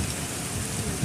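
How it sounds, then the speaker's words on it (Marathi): Steady rain falls across a Konkan village street lined with houses, a dense continuous hiss of drops on surfaces, close and even throughout the short stretch. "किती पाऊस पडतो आहे."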